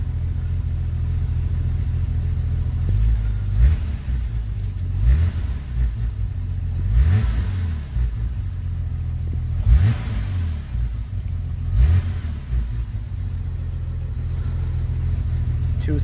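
A BMW M5 Competition revs repeatedly while standing still. Five or six strong rises of engine pitch swell over a steady idle rumble, heard up close with no talk.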